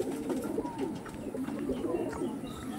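Racing pigeons coo in a loft, a low continuous burbling of several birds overlapping at close range, with faint chirps and no speech.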